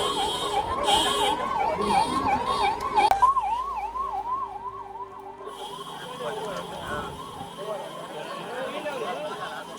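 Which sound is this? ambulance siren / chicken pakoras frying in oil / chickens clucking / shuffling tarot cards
ambulance siren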